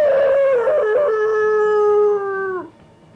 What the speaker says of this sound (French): cria le chien derrière lui.